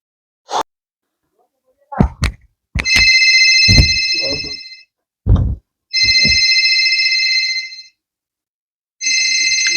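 An electronic phone ringtone for an incoming call plays in three sustained warbling rings, loud and close. Short voices and clicks come between the rings.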